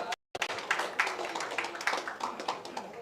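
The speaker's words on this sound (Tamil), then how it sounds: "ஒரு பலத்த கைத்தட்டலோட" Audience applause greets a guest called to the stage at a music video promo launch, a dense, steady clapping that fills the whole stretch after a brief silent gap at the start.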